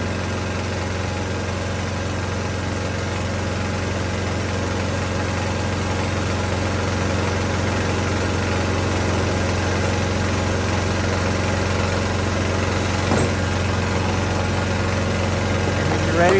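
A gas-powered handle pump engine used to fill bee feeders runs steadily at a constant idle-like drone, loud and close, with a low rumbling hum that holds unchanged throughout and faint background voices.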